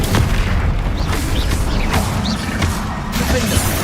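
Bombardo and Confringo spells burst in Hogwarts Legacy as a dense, loud barrage of booming blasts and clanking, mechanical impacts, with whooshing streaks layered over a constant heavy rumble.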